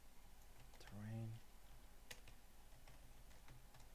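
Fast, light keystrokes on a computer keyboard, a few soft clicks and taps under a brief spoken word, fairly quiet and close.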